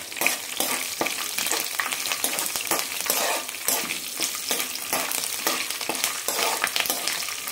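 Curry leaves with green and dried red chillies spluttering in hot oil for mango rice, a dense continuous sizzle with crackling pops and occasional stirring scrapes throughout.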